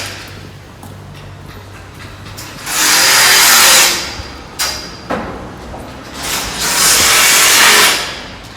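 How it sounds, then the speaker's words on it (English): Loud bursts of broadband machinery noise from building work, like grinding or cutting, rise and fall twice with short clanks in between, no talking. "And that's noise from the building work."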